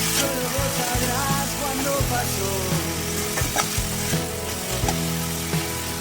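Tomatoes and salt frying in a pan for sorekai (bottle gourd) gravy: a loud, continuous close sizzle broken by repeated scraping stirs of a spoon against the pan.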